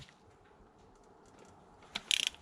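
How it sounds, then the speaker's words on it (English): A torque wrench set to 13 foot-pounds tightens a spark plug with a crush washer on a 1996–2001 Toyota Camry 1MZ-FE V6. Quiet background gives way near the end to a short, close burst of sharp ratcheting clicks. "here I have my torque wrench. I'm gonna set it to 13 foot-pounds. And we'll torque this down"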